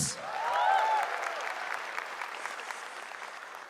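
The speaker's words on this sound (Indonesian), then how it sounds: "Tepuk tangan untuk Grand Final Suci" An audience applauds and cheers at a stand-up comedy grand final, a steady wash of clapping that swells early and then gradually thins, with a brief whistle near the start.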